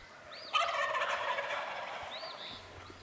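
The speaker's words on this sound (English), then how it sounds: "And yes, these are all gobblers." Wild turkey gobblers gobble loudly nearby at the roost, a rattling burst of calls from several birds overlapping, with a few higher chirps around them.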